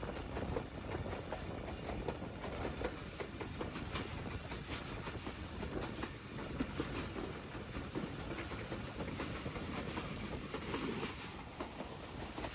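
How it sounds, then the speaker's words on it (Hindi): Pakistan Express passenger train running on a Punjab branch line near Sangla Hill, giving a steady, loud rumble of rail cars with continuous clickety-clack from the wheels and no voices. "सांगला हिल के करीब हमारी ट्रेन पहुंच चुकी है।"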